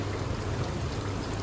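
Water is poured into a cooking pot while Madurai-style country chicken gravy is made, giving a steady, dense splashing rush that fills the whole moment with no talking.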